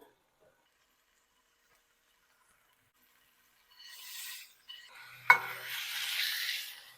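A tri-tip roast hits a hot pan and begins searing, starting after several seconds of silence with a soft hiss, then a sharp contact clack followed by a broad, steady sizzle up close.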